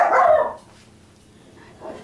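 A dog barks in a loud, close burst, then the room goes quiet until a fainter yip or bark near the end.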